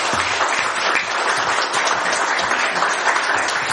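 A room of delegates at a national committee meeting of a Korean progressive party claps steadily and loudly for several seconds, with dense, even applause throughout.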